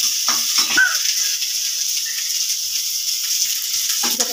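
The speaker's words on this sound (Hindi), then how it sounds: "अब इसको थोड़ा सा भून लेंगे। जब तक ये ब्राउन ना हो जाए भूनते रहिए।" Poha ingredients being stirred and roasted in a pan make a continuous close sizzle with a few scraping stirs near the start and end, and no talk.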